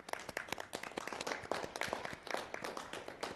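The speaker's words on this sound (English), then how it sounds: "So I'd like to clap for ourselves today." A meeting group claps for themselves, a dense burst of many hands clapping steadily at close range for a few seconds with no talking.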